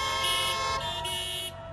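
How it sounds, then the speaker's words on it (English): Car horns blare at a busy junction where drivers honk in support of a street demonstration, producing loud, sustained overlapping tones close by that then cut off. "Their message, honk for BLM, and lots of drivers are responding to their call."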